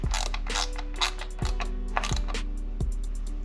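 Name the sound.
bolt tightened with T25 Torx bit on BOV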